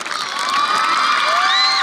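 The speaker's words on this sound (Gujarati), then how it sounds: "તો મુળુભાઈ કંડોરિયા જોરદાર તાળીઓ પાડો." An audience at an annual function for a girls' hostel in Jamnagar cheers and whoops, a loud crowd roar with high rising shouts and whistles sustained throughout.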